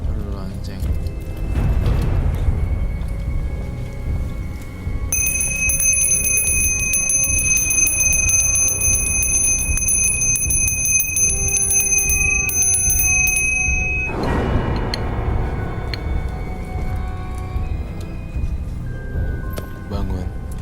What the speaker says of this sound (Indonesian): Kamu perlu lonceng? Perlu lonceng.